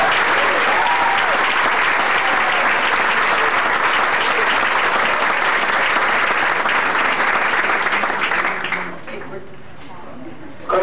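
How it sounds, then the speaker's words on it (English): Big crowd applause for high school marching band seniors, loud, dense and sustained for about nine seconds before fading quickly into quiet room tone. "Let's give them all a big round of applause."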